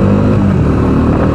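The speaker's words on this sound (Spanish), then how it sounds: "Voy a exigirle a la moto." A Bajaj Dominar 400 UG motorcycle pulls uphill under load, its engine a loud, close, continuous roar with a steady rumble and no talk.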